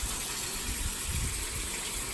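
Hot water running from a sink tap, a steady close gushing hiss with no voices.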